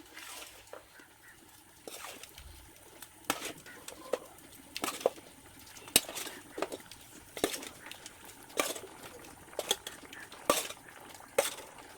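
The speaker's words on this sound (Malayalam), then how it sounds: "ഇനി പൊരിച്ച് വെച്ചിരിക്കുന്ന മീൻ കഷ്ണങ്ങൾ ഇതിലേക്ക് ഇട്ട് കൊടുക്കാം." Fried tilapia fish pieces being dropped into a simmering curry in a pan, heard as a run of sharp clinks and scrapes of a utensil against the pan, roughly a dozen spaced knocks over faint bubbling, close and fairly quiet.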